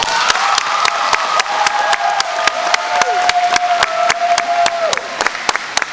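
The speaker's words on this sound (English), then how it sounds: "so give yourselves a round of applause" Audience applause for graduates at a 2010 graduation ceremony: a dense, steady wash of many hands clapping, loud and sustained for several seconds, with a faint tone running underneath.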